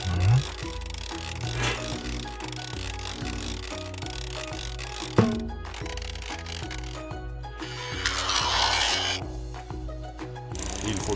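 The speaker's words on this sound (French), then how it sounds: "Il faut bien serrer ses vis." A cartoon sound effect of screws being tightened plays as a repetitive mechanical ratcheting and clicking under steady background music, with one sharp clank midway and a brief whooshing flourish near the end.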